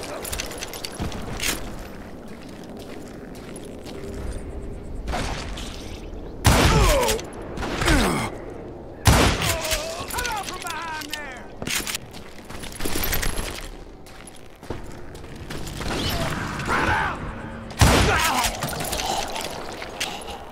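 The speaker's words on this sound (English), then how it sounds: "Kid Curry opened up on me with a goddamn Gatling gun" Gatling gun fire in Call of Juarez: Gunslinger, in bursts of rapid, loud rattling shots separated by quieter stretches of game noise, with scattered gunshots and clatter between the bursts.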